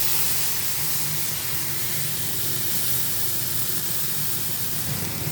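Nigella seeds and turmeric frying in hot oil in a pan that just held fried fish, giving a steady, close, broadband hiss and crackle that holds evenly from start to finish with no voices.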